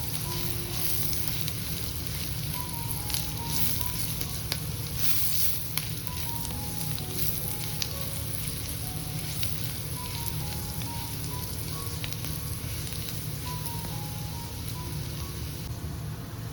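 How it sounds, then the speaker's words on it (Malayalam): Masala with half a teaspoon of turmeric powder frying in a pan for a beetroot carrot stir-fry, a steady close crackling sizzle like light rain with occasional faint stirring clicks, continuous and without speech. "ഇനി ഇതിലേക്ക് മസാലയ്ക്ക് ആവശ്യമായ 1/2 ടീസ്പൂൺ മഞ്ഞൾപ്പൊടിയൂടെ ചേർത്ത് നന്നായി ഒന്ന് ഇളക്കിയെടുക്കാം"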